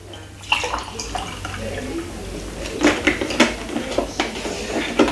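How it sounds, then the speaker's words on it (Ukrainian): Water is poured from a container in a home kitchen, a steady splashing stream with clinks of dishes over about five seconds, while someone talks over it. "Я собі зараз налью водички."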